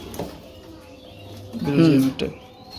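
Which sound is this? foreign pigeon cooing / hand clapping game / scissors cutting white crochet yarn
foreign pigeon cooing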